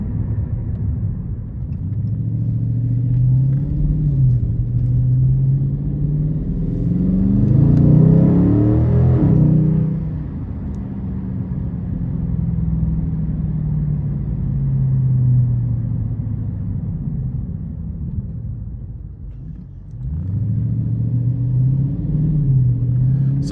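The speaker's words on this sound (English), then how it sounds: "really, really great exhaust sound. And in this sport mode, it's ready to go." A 2022 Dodge Charger SRT Scat Pack Widebody with a 6.4-liter V8 in sport mode rumbles loudly from inside the cabin, revving up and easing off in deep, throaty swells while driving.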